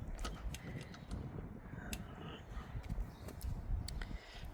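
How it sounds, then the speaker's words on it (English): Metal fuel tank slid onto a Suzuki TF185 motorcycle during wiring repair, a string of faint close scrapes, clicks and knocks with small creaks, no talking. "I can slip the fuel tank on now."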